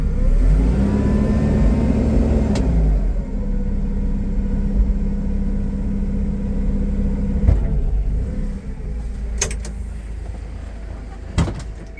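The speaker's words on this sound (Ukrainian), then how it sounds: "Підіймаю мачту на максимальну висоту. За допомогою педалі газу можна це зробити швидше." Engine of a Toyota 02-8FGF18 compact forklift revving with the accelerator while the mast is raised to full height: a loud, close, sustained rumble whose pitch rises and then settles, with a couple of sharp clunks and knocks toward the end.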